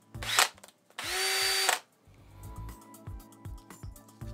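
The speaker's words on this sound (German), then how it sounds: "spanne ich in den Akkuschrauber ein. Stell eine hohe Drehzahl ein." A cordless drill whirs in a short burst, then runs steadily at high speed for under a second before stopping, followed by scattered clicks and handling noise; work on an old Märklin model locomotive motor.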